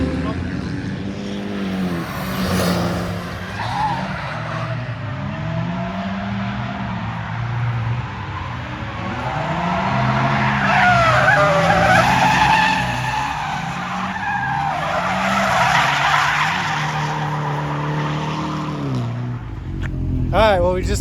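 Tires squeal and skid continuously as a car drifts at Pat's Acres, its engine revving up and down in waves, loud and sustained with some voices underneath.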